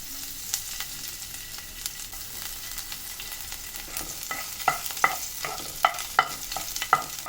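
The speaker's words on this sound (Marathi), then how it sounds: "थोडंसं तेल घालून जो आपण आत्ता लसूण जो ठेचलेला आहे ना, तो थोडासा घालायचा." Crushed garlic sizzling in a little hot oil in a kadhai, a steady soft hiss punctuated toward the end by a series of sharp clinks from a spoon stirring against the pan.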